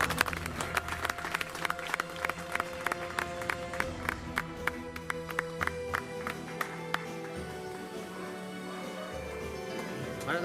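A crowd at a village gathering in Haryana claps in quick, fairly regular bursts over a steady tonal background, the sharp hand strikes thinning out toward the end.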